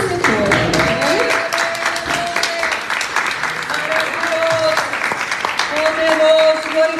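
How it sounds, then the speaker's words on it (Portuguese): A church congregation stands and applauds in worship, loud, sustained clapping filling the room for several seconds, with cheers and a voice rising over the crowd. "peço para todos se levantarem, dar uma grande salva de palmas"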